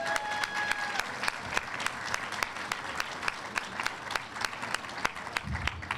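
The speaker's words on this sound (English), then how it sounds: "Let's give them a round of applause, please." Audience at a Copa Airlines press conference applauding, sustained dense clapping from a room of people, close and fairly loud for about six seconds.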